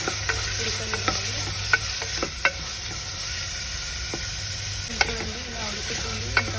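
Onions fried to golden brown with coriander and curry leaves for a beans and potato curry sizzle steadily in a pan at close range, with occasional light clicks of a stirring spoon and no talking.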